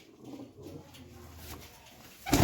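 Pigeons coo softly in a low, murmuring rhythm at close range, with a louder rustle or bump near the end.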